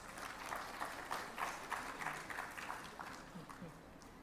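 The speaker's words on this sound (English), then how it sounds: "A big round of applause, please." Seminar audience applauding, moderate clapping with a loose rhythm of individual claps, somewhat distant and soft.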